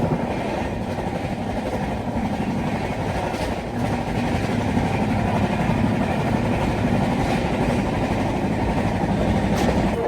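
Jhelum Express running at cruising speed between New Delhi and Faridabad, a steady loud rumble with rhythmic wheel clatter filling the whole stretch, no talk.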